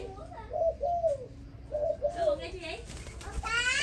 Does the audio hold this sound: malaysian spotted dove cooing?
yes